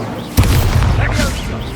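An Incendio fire spell cast in Hogwarts Legacy lands as a sudden whooshing burst, followed by a short roaring fiery tail under game ambience.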